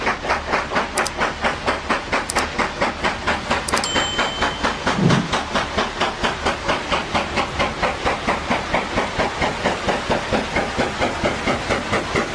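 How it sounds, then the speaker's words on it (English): A steam locomotive rolls past with rapid, even chuffs and a hissing rhythm that carries throughout, a few short whistle blasts early on and a low thump midway; loud and close, no talking. "This steam locomotive feels like a moving piece of history brought back to life."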